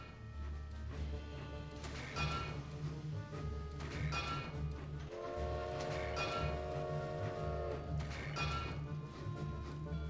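A train approaching in the video game A Series of Unfortunate Events rumbles steadily, and a sustained horn-like tone sounds midway over the continuous rolling noise.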